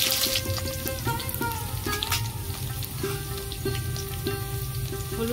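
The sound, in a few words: frying chopped chilli with garlic and onion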